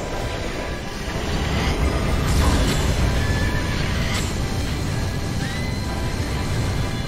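Horse in the Zelda Breath of the Wild video game whinnying and galloping, with loud continuous hoofbeats and wind-like rush and a few neighs layered over the running.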